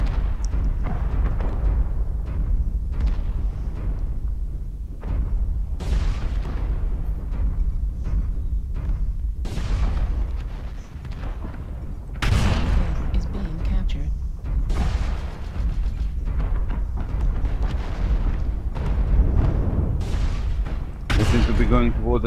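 Heavy weapons fire and explosions in the MechWarrior Online battle game, with repeated loud booming blasts and rumbling impacts throughout, under game radio voices and a player talking.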